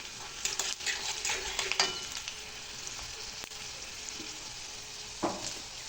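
Panch phoron spices frying in hot oil for a green chilli pickle, with a steady close sizzle under scattered stirring clicks and one sharp scrape near the end, no voices.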